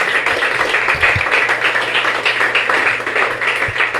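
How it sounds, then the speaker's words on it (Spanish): A church congregation claps during a worship service, a moderate burst of scattered hand claps and taps that runs steadily for a few seconds. "Denme un aplauso al Señor."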